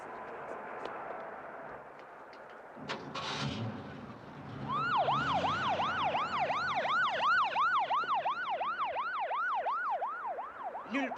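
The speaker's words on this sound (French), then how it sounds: "Ici, ça n'a pris que 6 minutes pour que l'ambulance arrive." An ambulance siren in a 1975 science-fiction film wails in a rapid, steady up-and-down rhythm, loud and near, after a moment of people talking and a short clatter.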